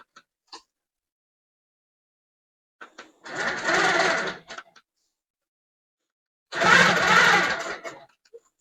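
A long-arm quilting machine stitches an orange-block quilt in two separate bursts of steady mechanical whirring, each lasting about a second or more, with silence and a few faint taps in between.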